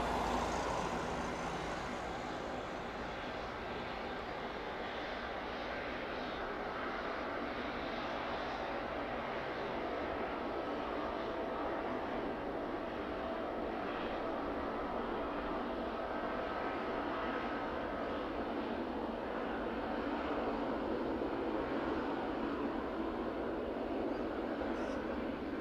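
A cargo airplane taxis down toward the DHL apron at East Midlands Airport, giving a steady, distant jet engine roar that holds level for the whole stretch without any talk.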